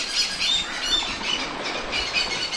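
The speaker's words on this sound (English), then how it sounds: "They're all birds." Birds squawk on Langkawi Island, a steady tangle of shrill calls near and far, with no one speaking over them.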